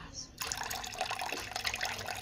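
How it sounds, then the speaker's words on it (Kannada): Water runs into a bowl of vinegar while chhena for milk-based rasgulla is being prepared. After a brief quiet start, a steady close splashing pour continues to the end. "ಇದಕ್ಕೆ ಸ್ವಲ್ಪ ನೀರು ಆ್ಯಡ್ ಮಾಡ್ಕೊಳ್ಳಿ"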